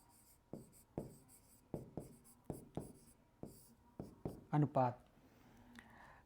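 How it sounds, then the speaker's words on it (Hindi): Chalk or marker strokes on a board during a lecture come as a steady series of sharp taps, about one each half second, then a few louder scraping strokes at the end, close and clear. "तो यहाँ लिखेंगे अनुपात"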